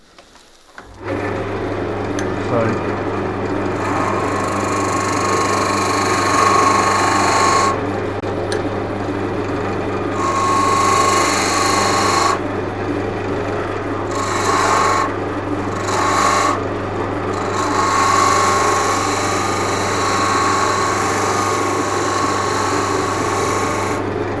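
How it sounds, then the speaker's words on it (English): A skew chisel takes a peeling cut on wood spinning on a lathe, giving a steady rasping, scraping hiss over the machine's constant low hum that rises and eases as the tool bites. "Here's where I should use the peeling cut to start taking this down a little bit at a time."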